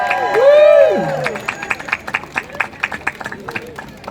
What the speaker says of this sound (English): Send a cheer to Mick Maloney.